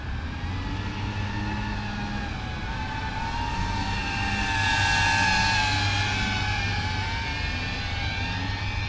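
A Flywoo Chasers 138 cinewhoop drone on 6S power, fitted with bull-nose props meant for indoor use, flies with a continuous high whine that rises and falls in pitch, briefly louder near the middle.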